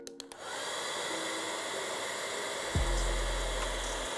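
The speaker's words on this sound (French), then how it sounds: "je vais aller chercher un sèche-cheveux, on va voir si ça marche mieux" A hair dryer blows steadily on a sneaker being restored and reglued, a close, loud, continuous whoosh with a few clicks at the start and a deeper rumble partway through.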